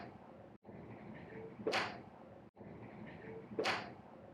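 A golf club strikes a ball on a punching-finish practice shot, a sharp crisp swish-and-crack heard twice, several seconds apart, against quiet outdoor background noise.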